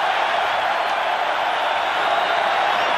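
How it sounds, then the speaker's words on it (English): Rugby test crowd between Australia and New Zealand in 1998, a broad, steady roar of cheering from a large stadium audience as a player comes on, sustained and loud without pause. "And now a big cheer comes up."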